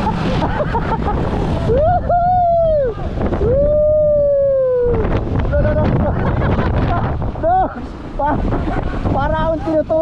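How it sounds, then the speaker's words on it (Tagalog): Strong mountain wind roars and buffets the microphone steadily, with a person's rising exclamations and shouts carried over the gusts. "Ang lakas ng hangin."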